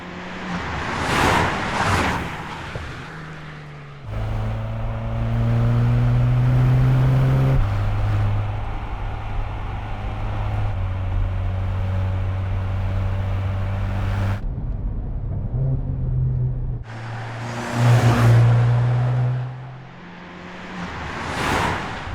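A 2023 Mercedes-AMG C43 4MATIC with its 2-liter four-cylinder engine revs and drives by, loud exhaust rising and falling through gear changes, with whooshing passes at the start and end.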